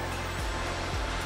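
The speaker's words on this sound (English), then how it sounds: "The pool and the water features are turned on right now." Steady broadband rush of running water from a backyard pool and water features at a luxury rental home in Washington, Utah, continuous and fairly close, with a couple of brief low thumps breaking through.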